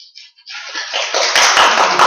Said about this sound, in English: The 3 councilmen stand up and everyone claps.